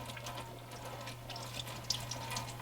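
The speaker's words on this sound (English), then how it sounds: "So we're going to let the fluid drain" Burnt-smelling transmission fluid drains from a Dodge Durango as a faint, steady trickle with occasional drips, under a low constant hum in a quiet workshop.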